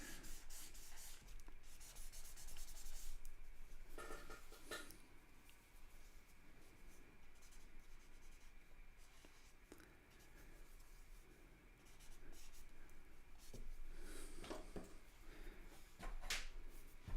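Pencil drawing a portrait on paper, with steady faint scratching and rubbing strokes that continue throughout, broken by a few slightly sharper scrapes, quiet and close.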